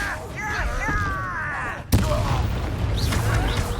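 The Confringo spell in Hogwarts Legacy goes off in a sudden loud blast midway, followed by a rumbling burst over battle noise, with shouted voices before it.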